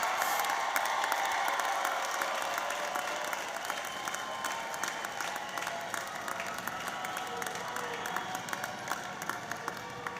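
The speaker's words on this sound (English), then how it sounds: "Please continue to applaud for these students for their many accomplishments" A large crowd at a Washington High School graduation ceremony claps for the graduating class of 2024, dense sustained applause throughout with faint cheering mixed in, fairly distant and even.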